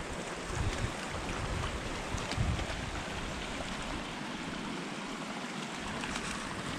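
Water from a stream flowing through grass near a cabin, a steady broadband rushing wash at close range with no voices.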